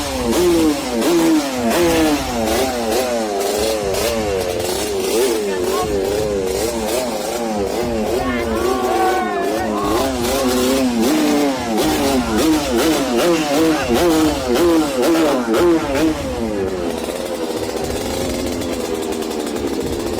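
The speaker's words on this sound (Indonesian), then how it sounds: "pemotor langsung terdiam dan menghentikan aksi geber-gebernya" Motorcycles at an event rev their engines hard and repeatedly, the loud engine pitch sweeping up and down continuously in overlapping waves throughout.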